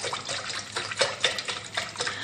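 Water poured into a lemon water mix for nimbu pani, a steady splashing stream with bright liquid bursts throughout, close and moderately loud, no voices.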